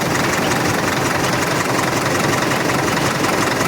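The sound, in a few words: Caterpillar D4 pony motor engine idling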